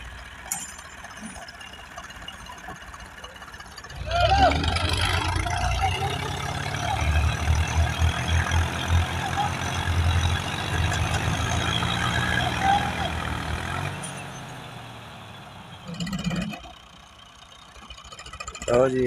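A tractor engine rumbles while it reverses a heavily loaded trolley stuck in mud, swelling louder for about ten seconds and then easing back, with voices heard at times.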